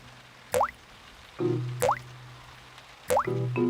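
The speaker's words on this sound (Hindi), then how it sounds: "ओह, बारिश का पानी घर के अंदर आ रहा है।" Cartoon rainwater drips into a house during a thunderstorm, three separate bright plinking drops, each followed by a short resonant tone, evenly spaced and close, with no talk.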